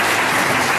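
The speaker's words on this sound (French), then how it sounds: "ça applaudissez pour le CDD" Applause from an audience at a religious prophecy gathering, a steady dense clapping that fills the whole short moment at constant loudness with no talk over it.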